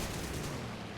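A long machine-gun burst from the Breguet 693 attack aircraft in War Thunder, a dense, continuous roar of rapid fire that stays loud and unbroken for the whole second, with no voices over it.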